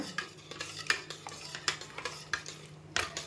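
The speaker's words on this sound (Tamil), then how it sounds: "இப்போ நல்லா கிளறி விடுங்க" A spoon stirs tomato dal sambar for mini idli in a pot, freshly tossed with curry leaves, making soft repeated scrapes and light metallic clinks against a low, steady stove hum.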